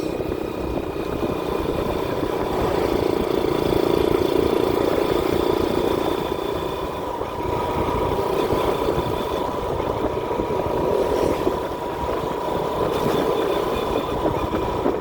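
A TMX Supremo 150 motorcycle engine drones steadily and loudly for the whole stretch on a night ride, a rough continuous rumble with no talking.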